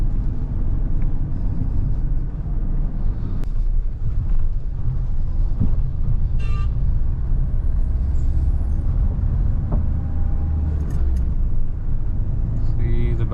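Mahindra XUV 700 diesel manual SUV driven over bad roads, heard from inside the cabin as a loud, steady low rumble with occasional knocks and thumps from the rough surface.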